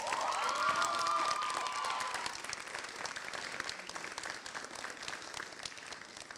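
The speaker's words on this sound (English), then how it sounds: "can we please give your families a round of applause?" A crowd at a 2021 graduation ceremony applauds loudly, with some cheering in the first couple of seconds, then the clapping continues more evenly and slightly softer.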